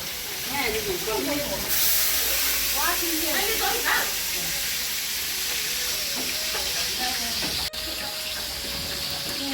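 Fish sizzles in a pan with a continuous hiss while people talk nearby.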